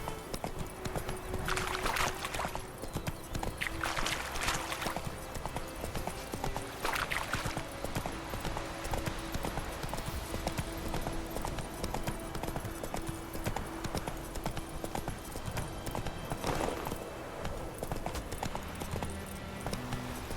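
Roach the horse gallops in The Witcher 3, rapid rhythmic hoofbeats clattering steadily and fairly close for the full length, with a few brief louder bursts of rustle or wind over them.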